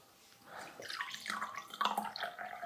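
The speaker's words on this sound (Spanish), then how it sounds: "Vamos a echar el agua ya filtrada" Filtered water is poured into a glass indoors, a soft, close trickling and splashing that builds after a quiet start and keeps going steadily with no talking.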